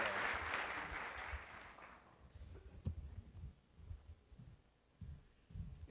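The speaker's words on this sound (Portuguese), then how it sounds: "Uma salva de palmas para a Bianca aí." Audience applause at a conference, a brief burst of clapping for a woman that fades within about two seconds, leaving faint room noise and low thumps.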